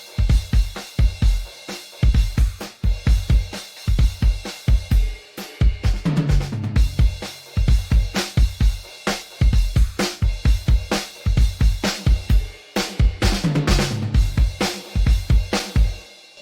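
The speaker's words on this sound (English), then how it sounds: "Then we have the snare drum" The Ugritone Riot Drums snare drum plays dry, with no reverb and no compressor, in a loud, fast metal drum pattern, its sharp hits landing in a driving rhythm over pounding kicks and cymbals.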